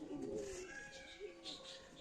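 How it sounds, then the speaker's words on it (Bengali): Pigeons coo nearby in a couple of soft, low, rolling calls over a quiet background. "এই যে সিলেটে এসে কবুতরের খোঁজ পেয়ে গেলাম ফাইনালি।"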